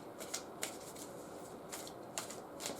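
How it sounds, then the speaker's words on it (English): Tarot cards are shuffled quietly, a string of soft papery riffles and taps arriving in short bursts against a faint hush. "One more shuffle."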